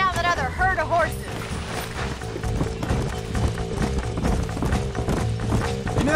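Rapid hoofbeats of horses galloping in the Western video game Red Dead Redemption, a steady drumming rhythm running throughout at moderate loudness, mixed with game sound and a voice talking over the start.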